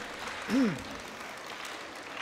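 The audience at a candidates' forum applauds steadily at low level, with a brief tonal squeak or voice near the start.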